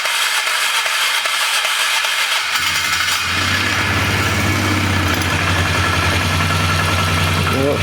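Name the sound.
flood-damaged Polaris 325 ATV engine starting and running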